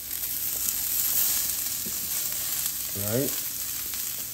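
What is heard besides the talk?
vegetables sizzling in olive oil on a Mongolian barbecue grill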